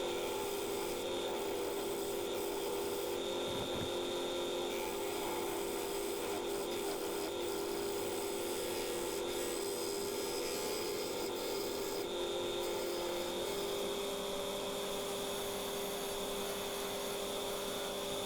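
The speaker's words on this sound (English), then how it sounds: "Sharpening up my chisel in the background there" A woodturning chisel is sharpened nearby with a continuous, steady rasping and grinding that runs unbroken, with no talking.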